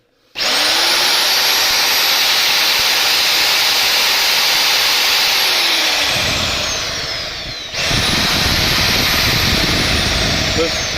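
An angle grinder whines steadily at high speed, briefly winding down and then spinning back up, loud and close.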